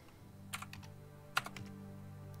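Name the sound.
keyboard typing sound in video game Stories Untold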